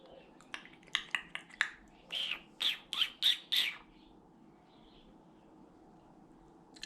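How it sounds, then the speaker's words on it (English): Pet birds at a home in Heidelberg, Gauteng, giving a burst of sharp, close squawks, a quick run of short calls and then a few longer ones, before falling quiet. "Do you like the sound of the birds?"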